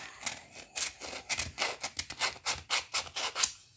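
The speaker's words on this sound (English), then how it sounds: "get your thumb, just get it in there and have a bit of a rub" Scratchy rhythmic rubbing of sandpaper pressed by a thumb into indented detail on a surface, a dozen or so quick close strokes in a regular back-and-forth pattern, with no talking.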